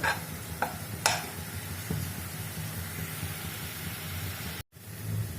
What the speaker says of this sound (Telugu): సో మీడియంలో పెట్టుకుని చక్కగా వేయించుకుందాం